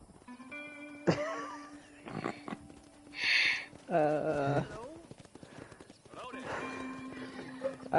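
A horse in the Red Dead Redemption video game whinnies loudly while its hooves clip-clop steadily, mixed with other game sounds and brief voices.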